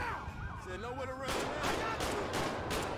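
Gunshots in GTA 5 from a police patrol: a rapid, evenly spaced string of loud shots that follows a moment of talking.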